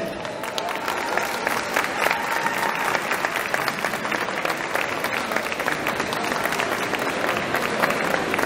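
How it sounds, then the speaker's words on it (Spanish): A live comedy show audience welcomes comedian Alfredo Morel with sustained, dense applause, steady and loud throughout with a faint murmur of crowd voices beneath. "Les voy a pedir que recibamos con un fuerte aplauso al señor Alfredo Morel."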